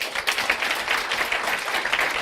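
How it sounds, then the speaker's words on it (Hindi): A class of students applauds a classmate during an accounts lecture, with steady, moderately loud clapping from many hands that lasts about two seconds. "इस बच्चे के लिए एक बार ताली बजा देंगे।"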